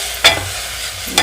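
Ingredients for a lake kendai fish curry sizzle steadily in a pan, with two brief scraping stirs cutting through the close, continuous frying hiss.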